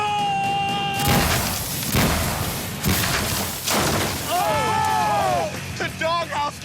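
A doghouse fired from a backyard cannon crashes into a homemade pirate ship, giving a few loud thuds and crashing impacts close by while excited voices shout over and around them.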